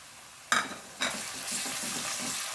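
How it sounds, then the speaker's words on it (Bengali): Garlic paste drops into a hot pan with a sharp hiss, then a second splash, settling into a steady close sizzle with light stirring. "এখন আমি বাকি যে রসুন বাটাটা ছিল সেটা এখন আমি দিয়ে দেবো"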